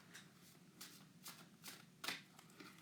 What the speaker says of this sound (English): You know what? We need to shuffle these.